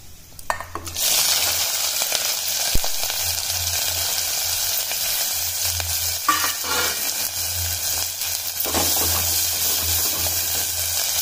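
Cumin seeds sizzling in hot oil for tandul khichu, a sudden loud onset of crackling fry that settles into a steady close hiss with a few clinks of a pan, no speech.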